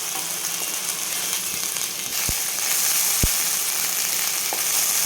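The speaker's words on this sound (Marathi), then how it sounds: "दोन मिनिट चांगलं परतून घ्यायचं आहे याला, भाजलेला असला तरी" Roasted masala for dry mutton curry sizzles steadily in a hot pan as it is sautéed, with a few sharp scraping knocks of stirring; close and continuous, no talking.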